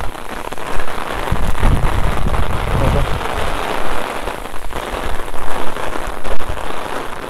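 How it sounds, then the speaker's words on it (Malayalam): Heavy rain pours steadily during a jungle trek to Kudajadri near Mookambika, a dense, continuous hiss of drops drumming on surfaces, loud and close throughout with low rumbling gusts. "രക്ഷയില്ലാത്ത മഴയാണ്."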